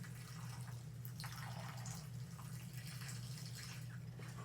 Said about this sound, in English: Let that drain out a little bit.